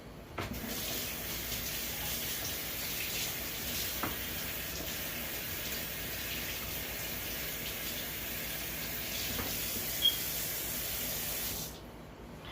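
A large papaya is rinsed under a running kitchen tap, a steady close rush of water with a few small knocks, stopping abruptly just before the end.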